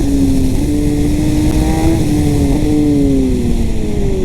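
A Kawasaki ZX-10R engine pulls hard through rising revs, its tone climbing smoothly, then dropping at quick gear changes before climbing again, loud with heavy wind rush and no talking.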